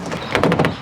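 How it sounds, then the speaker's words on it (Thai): A door being opened in a quick, close sequence of rattling and sliding thumps, several short knocks and scrapes in under a second. "เปิดประตู"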